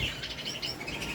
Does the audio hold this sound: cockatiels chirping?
yes